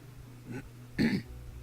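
A man imitates someone clearing his throat, giving two short rough throaty bursts, the second louder and closer, with no other talk.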